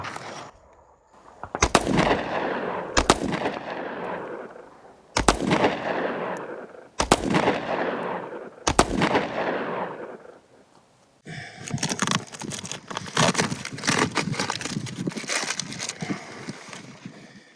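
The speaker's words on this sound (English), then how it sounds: "we're just gonna finish off this mag, just to see what if this armor is gonna fail at some point" Pistol shots fired into body armor ring out loud and close, first as five separate echoing cracks spaced a second or two apart, then as a rapid string of shots emptying the magazine.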